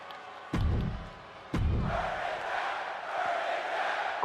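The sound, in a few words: crowd chanting Burn it down in video game WWE 2K22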